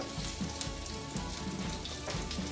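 Fish sizzling loudly in a frying pan of oil on a cooker, a constant close crackling hiss with small pops, no talking.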